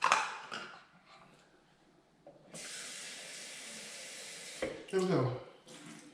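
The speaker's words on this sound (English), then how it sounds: "1 cup of water coming up" Water runs from a tap into a container during home wine making, first as a steady hissing stream for a couple of seconds and then in shorter bursts, with a person talking briefly before the flow starts.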